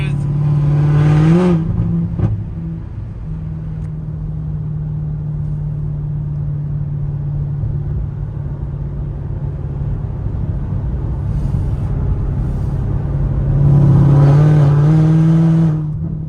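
A modified 2019 Chevrolet Corvette ZR1 with bolt-on mods driving, loud steady engine drone from inside the car with revving surges at the start and near the end as it accelerates.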